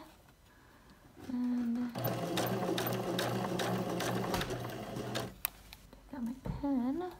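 A domestic sewing machine stitches fabric for a welt pocket, running steadily for about three seconds with a loud whirring hum. A voice speaks briefly before and after, and the machine runs alone in the middle.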